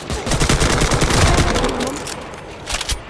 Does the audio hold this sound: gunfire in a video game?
yes